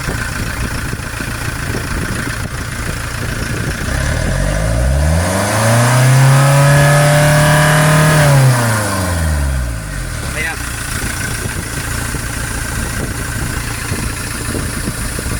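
A Hyundai H100 van's Euro 4 diesel engine, showing low power and a fuel pressure fault, rises into a strong rev, holds it and drops back to a steady idle. The sound is loud and close, with someone talking over it.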